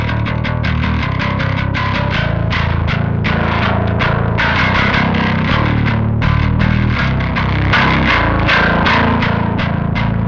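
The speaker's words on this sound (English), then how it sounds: "This pedal does a pretty good job of capturing that driven Ampeg feel with that fuzzy low-end distortion." A guitar pedal giving a driven, Ampeg-style fuzzy low-end distortion on a loud, thick bass part of repeated, steadily rhythmic plucked notes, played alone and sustained throughout.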